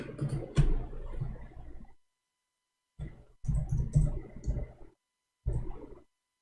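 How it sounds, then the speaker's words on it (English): Someone typing a search into a computer keyboard, in short separate bursts of quick key clicks with silent gaps between them, close and fairly quiet. "I will type it in front of you."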